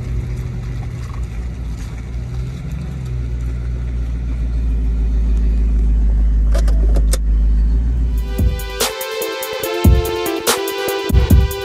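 A 1996 Ford Mustang GT with a 4.6-liter V8 pulls over, its steady low engine rumble building and then cutting off, followed by loud close clunks and rattles of the door and keys, with no talking.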